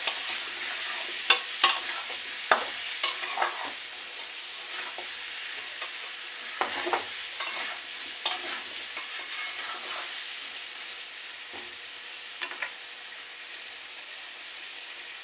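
Spices for a shrimp and Malabar spinach curry sauté in a pan with a soft, continuous sizzle, punctuated by irregular scraping strokes of a spatula, near and without talk.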